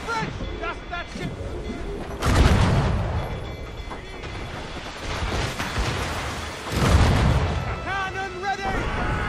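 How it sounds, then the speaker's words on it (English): Naval cannon fire between sailing ships in Assassin's Creed Rogue, with two heavy booming broadside volleys rolling out over continuous battle noise and ambient clatter. "More enemy side fire!"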